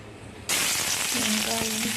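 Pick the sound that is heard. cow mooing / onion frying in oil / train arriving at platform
onion frying in oil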